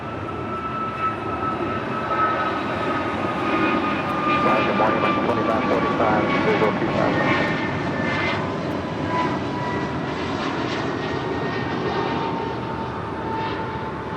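An American Airlines Airbus A321neo jet departs LAX with a loud, steady engine roar that holds through the whole stretch, tonal whine layered over broad rumble, with faint talk in the background.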